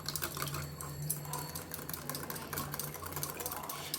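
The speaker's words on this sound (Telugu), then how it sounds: "ఈ పెరుగుని ఇట్లా బాగా చిలుక్కోవాలి" Homemade curd whisked in a bowl, giving a rapid clatter of quick, close, irregular taps that continues steadily without pause.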